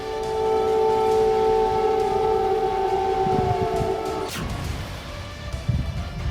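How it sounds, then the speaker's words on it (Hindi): An air raid alert siren in Kyiv sounds a sustained, steady wailing tone, loud and slightly distant, which cuts off abruptly near the end, leaving quiet outdoor background. "सोमवार की रात कीव में अलर्ट सायरन की आवाज गूंजने लगी।"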